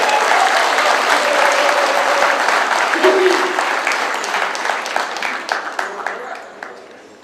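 Audience applause welcoming theatre figure Iman Soleh at an international festival: dense, sustained clapping from a crowd that holds steady, then thins into scattered claps and fades toward the end.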